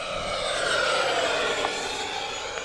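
FMS F-16C 70mm electric ducted fan model jet flying at full throttle, a steady whooshing whine that holds fairly even in the distance, with no voices.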